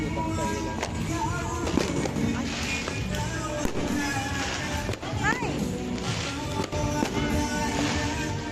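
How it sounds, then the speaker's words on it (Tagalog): New Year fireworks crackle and pop in rapid, irregular bursts, with sharp bangs and whistling rockets across a loud festive neighborhood scene, voices chattering and cheering throughout. "More on yung na-video ko is yung mga puro fireworks."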